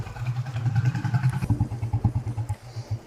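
A Royal Enfield Bullet motorcycle on a road ride thumps close by with its deep, rhythmic single-cylinder beat, the pulses pacing steadily as it cruises.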